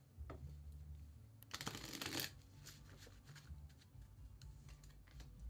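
Tarot cards are shuffled quietly and close by, with a dense burst of riffling in the middle and softer card handling before and after, over a low background hum.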